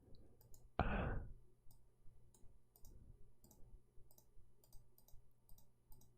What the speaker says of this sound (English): My mouse is so clicky.